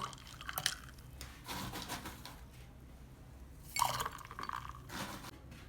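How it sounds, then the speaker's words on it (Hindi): Ice cubes drop into a drinking glass, producing a few bright clinks and knocks close by, with one louder clatter partway through amid quiet pauses. "ये मैंने बर्फ़ के क्यूब्स लिए हुए हैं, इसमें ये शामिल करेंगे।"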